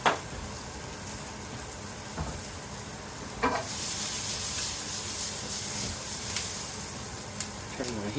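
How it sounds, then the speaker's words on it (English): Rigatoni pasta is stirred in a pot before baking. Spoon scrapes sound at intervals over a steady close bubbling and sizzling hiss. "We give it a stir, because we don't want our pasta to stick together"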